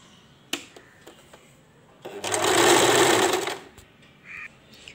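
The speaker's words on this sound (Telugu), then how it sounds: "ఈ ఎడ్జ్ని ఇలా పట్టేసుకుని మిషన్ తొక్కేయాలి." A treadle sewing machine stitches a saree fall edge in one rapid, whirring burst of about a second and a half, framed by quiet clicks and handling of the cloth.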